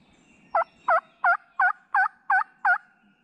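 A wild turkey gobbler in spring gobbles in a quick run of seven loud, evenly spaced calls, carrying clearly over a quiet outdoor background and sounding fairly close, with no talking during the calls.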